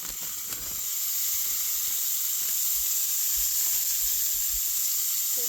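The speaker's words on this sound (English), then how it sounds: "So I'm gonna put my ground beef in the skillet." Ground beef sizzles steadily in a hot skillet, a constant close frying hiss with faint crackles and no talking.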